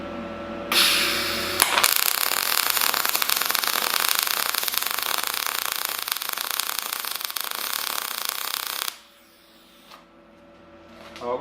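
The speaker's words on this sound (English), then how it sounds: "That's my last weld." Test weld on steel during metal fabrication, a loud, close, continuous crackling buzz starting after about a second, holding steady for roughly eight seconds, then cutting off into quiet.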